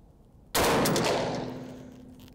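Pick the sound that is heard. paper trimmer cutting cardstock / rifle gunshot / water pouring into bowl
rifle gunshot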